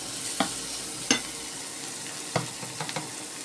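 Chopped ginger drops into a hot pan and sizzles, with a steady frying hiss broken by a few sharp crackles and stirring clicks, close and moderately loud.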